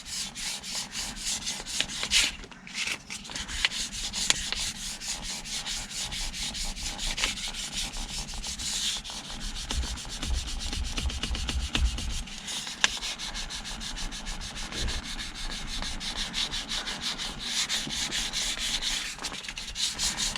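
Fine-grit sandpaper, 300 then 600 grit, is rubbed by hand over a UV-damaged, hand-worn leather steering wheel in close, continuous, rhythmic scratchy strokes that run steadily, with no talking.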